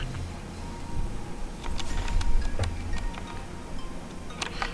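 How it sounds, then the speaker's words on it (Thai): Scattered light key clicks from a SIGNO KB-721 mechanical keyboard with brown switches, some in quick pairs, over a low background rumble, nearby and fairly quiet. "บาวมันเป็นลูกครึ่งระหว่าง บูสวิตกับเลสวิตนั่นเองนะครับ เสียงจะประมาณนี้นะ"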